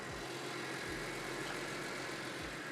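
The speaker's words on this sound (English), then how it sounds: "the engine itself sounds sweet, performs really well, and looks good" A BMW Z4M engine idles steadily, a faint low hum with a few soft low-pitched pulses over a constant hiss, with no voices.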